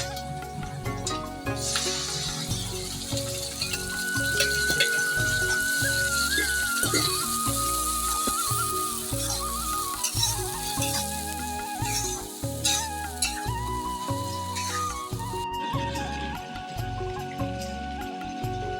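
Goat meat cooking in a pan gives a steady, continuous sizzle and crackle of frying throughout, heard under melodic background music with no voices.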